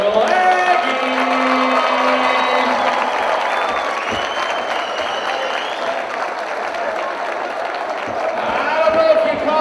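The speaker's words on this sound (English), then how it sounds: "Give a big old round of applause to the Albertville Aggies." Audience applause for the Albertville Aggies basketball team at a county boys final, a dense sustained clapping wash lasting the whole stretch, with a voice talking over it and the clapping swelling again near the end.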